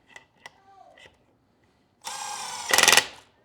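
An impact wrench with a 1/2 inch flip socket gives a loud, buzzing burst of about a second and a half that rises to a sharper hammering at the end, after a few faint clicks and a short spoken comment.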